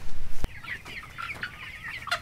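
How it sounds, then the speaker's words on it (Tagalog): Free-range chickens cluck and squawk in a quick, irregular run of calls, close and fairly loud, with no talk over them. "For sure, medyo magalit na sa akin itong mga manok na to kasi hindi ko na sila nilagyan ng feeds."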